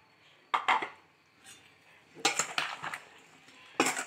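A spoon stirs pineapple chaat with green chutney, cucumber, lemon and salt in a bowl, giving three separate bursts of clinks and scraping close by, with quiet gaps in between.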